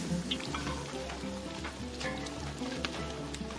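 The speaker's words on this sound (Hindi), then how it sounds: "फिर वाजे ने खौलते हुए घी में कश्मीरी मिर्च से तड़का लगाकर ये हाक तैयार कर दिया।" Kashmiri chilli tempering crackles and sizzles in boiling ghee for a Kashmiri wazwan dish, a soft, steady frying hiss with scattered pops and occasional stirring scrapes.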